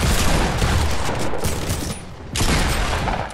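Rapid, loud gunfire from a Desert Eagle pistol in a video game match, dense overlapping shots forming a continuous fusillade with a short lull partway through.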